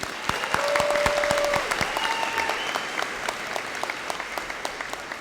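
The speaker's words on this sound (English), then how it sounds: "So another round of applause for our students." A graduation audience at Hocking College's summer ceremony applauds its students with sustained, dense clapping throughout, a few brief whistles or cheers rising above it before the clapping slowly tapers.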